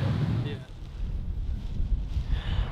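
Strong gusty wind buffets a small plane's microphone during a landing approach, a continuous low roaring rumble that swells and fades, loud and close with no clear talk.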